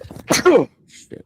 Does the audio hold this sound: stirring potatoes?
no